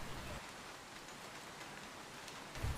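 Soft, steady rain falls with an even hiss that stays faint and unbroken, with no voices.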